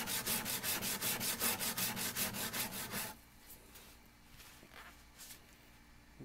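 A wooden jointer's plane blade is rubbed back and forth on a 200 grit diamond sharpening plate, giving about a dozen quick, even, loud rasping strokes close up, then the scraping stops and only faint handling sounds follow.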